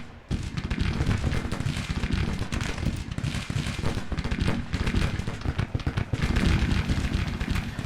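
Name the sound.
artillery guns firing in Grand Tactician: The Civil War video game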